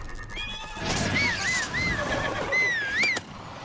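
A horse whinnies twice in long, wavering squeals in the video game Zelda: Breath of the Wild, close and clear over a soft background hum.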